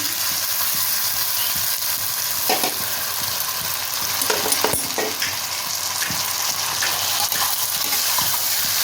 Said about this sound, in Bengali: আমি এবারে এতে চাউমিনটা আমি এবার ঢেলে দেব।